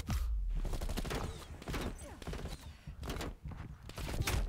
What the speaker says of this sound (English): I've been getting shot at every which way